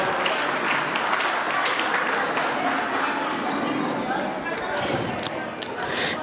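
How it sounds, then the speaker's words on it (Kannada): An audience claps steadily to welcome teachers at a Guru Vandana felicitation programme at a school in Bhairidevarakoppa, Hubballi. The dense applause runs without a break for the whole stretch, with voices mixed into it. "ಎಲ್ಲರೂ ಚಪ್ಪಾಳೆ ಮೂಲಕ ನಮ್ಮ ಗುರುಗಳಿಗೆ ಸ್ವಾಗತವನ್ನು"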